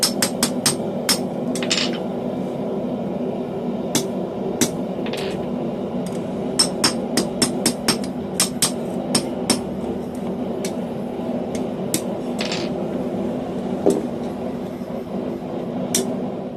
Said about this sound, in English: I'll give it its final size and round up the inside more with this little cone mandrel I have.